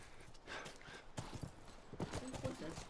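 Horse hooves clip-clop in The Last of Us video game, a quick run of hoof strikes mixed with game sounds while a person talks over them.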